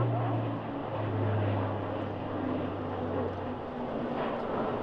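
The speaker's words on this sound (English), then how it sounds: "here's a demonstration of an impressive rate of climb" An Airbus A400M military transport aircraft climbs steeply at an air display, its propeller engines droning steadily with a broad, even roar and a low hum throughout.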